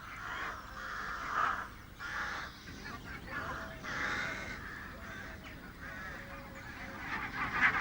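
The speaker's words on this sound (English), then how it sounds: "The first geese depart for Iceland," Geese honk in a spring coastal setting as the flock prepares to depart, overlapping calls rising and falling over a steady windy background.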